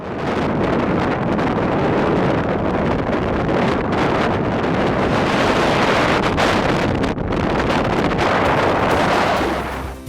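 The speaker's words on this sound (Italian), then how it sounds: "dove ad attenderci c'è uno dei classici elementi della Patagonia, il vento" Strong Patagonian wind roars and buffets the microphone continuously near the Paine peaks, a loud rushing gusty noise with no voices.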